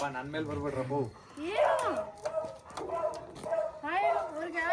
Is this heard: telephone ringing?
no